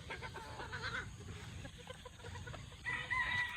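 On a small farm holding gray and red chickens and pullets, hens cluck softly and a rooster crows faintly in the distance, all at low volume against quiet outdoor background noise.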